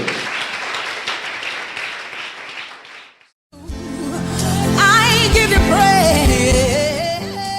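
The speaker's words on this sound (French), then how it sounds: "Give the Lord a big clap" A church congregation at an evangelical service in Abidjan, Côte d'Ivoire, breaks into loud sustained applause; a dense wash of clapping fades, drops out briefly, then swells again with cheering and musical tones mixed in.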